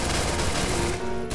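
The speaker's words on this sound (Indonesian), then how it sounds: "Tembakin yuk." Dense automatic gunfire crackles in rapid bursts during a Free Fire battle royale match, loud and continuous with no pause, alone without talk.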